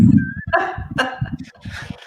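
A puppy yips, barks and whimpers up close in a quick, uneven run of short high cries and small barks, loud and clear with no talking.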